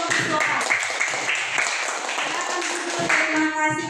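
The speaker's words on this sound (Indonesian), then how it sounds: "Tepuk tangan dong untuk kelompok siswa." A classroom group claps for a student group, a brief burst of scattered hand-clapping mixed with voices talking over it.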